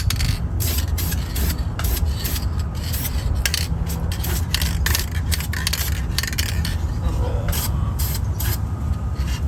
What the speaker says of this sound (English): Now I'm going to coat it with some paint so it doesn't rust over time.